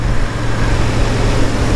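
A Royal Enfield Interceptor 650 motorcycle engine rumbles steadily while riding along a wet road at around 70 km/h, a low continuous drone mixed with wind and road noise.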